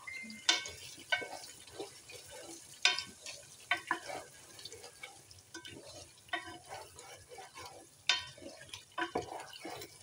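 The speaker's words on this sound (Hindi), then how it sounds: "अब हम इसके मसाले को भूनेंगे तेज़ आंच करके" Masala frying over a high flame with garam masala and green chilies, with repeated clattering stirs and scrapes of a spoon against the pan over a low sizzle, loud and close.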